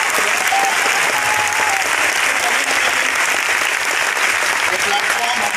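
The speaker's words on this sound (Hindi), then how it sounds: "उन सभी माँ बाप के लिए एक बार जोरदार ताली हो" An audience breaks into loud, sustained applause, dense clapping that stays strong and even throughout without a break.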